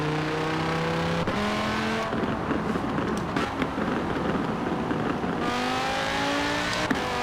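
Car engine in Forza Horizon 4 running loud and steady for the whole stretch, with harmonic revs rising and shifting through gear changes, a rough gritty roar in the middle, and small tire and impact ticks near the end.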